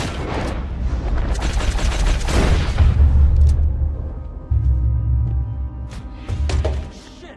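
Gunfire in Red Dead Redemption 2 during a robbery: a cluster of loud, close shots and booms in the first few seconds, then a few quieter thumps over a low rumbling game backdrop.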